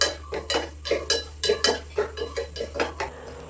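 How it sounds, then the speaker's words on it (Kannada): A utensil scrapes and clinks against a pan while fennel, cumin, cinnamon, cardamom and cloves are stirred and dry-fried, making a quick, irregular series of close metallic taps with no talking. "ಈಗ ಎಲ್ಲನೂ ಚೆನ್ನಾಗಿ ಫ್ರೈ ಮಾಡ್ಕೊಳ್ಳೋಣ."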